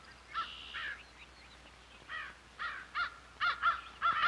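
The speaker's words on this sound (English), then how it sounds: "I sure didn't like the cawing of those pesky crows" Several crows caw in a series of harsh calls, sparse at first and then quicker and louder, over a quiet background.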